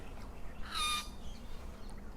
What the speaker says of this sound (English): That's a bird very close by.